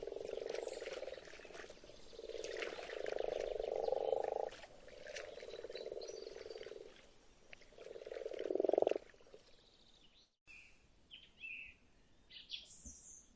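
Frogs croaking in spring at the edge of wooded mountains, in long buzzing choruses that rise and pause, with bird chirps and calls joining near the end.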